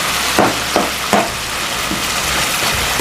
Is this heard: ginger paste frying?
yes